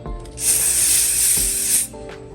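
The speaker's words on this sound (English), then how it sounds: "This bag has been completely covered in protective spray." A steady hiss from an aerosol can of Scotchgard protective spray onto a Dooney & Bourke canvas bag sprays continuously for about a second and a half, close up, with faint clicks before and after.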